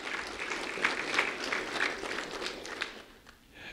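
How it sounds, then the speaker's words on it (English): Faint, distant applause from a gathered audience honors voice volunteers working behind the scenes at a community event, scattered claps thinning out toward the end. "A round of applause for our voice volunteers behind the scenes"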